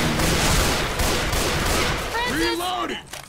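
Continuous rapid gunfire roars through a Left 4 Dead 2 zombie-survival match on the No Mercy campaign, dense and loud throughout, with a voice calling out over the shooting near the end.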